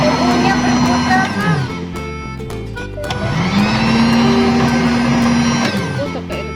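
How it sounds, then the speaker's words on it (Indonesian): An electric mixer whirs steadily while a sweet martabak batter is being made, its motor slowing, pausing briefly, then spinning back up to a loud, even hum. "Mixer."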